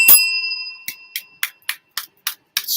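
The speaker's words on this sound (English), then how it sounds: "Let's ring a bell." A bell struck once with a bright ringing tone that decays, followed by a quick run of seven or so sharp, evenly spaced dings, close and clear with no talking.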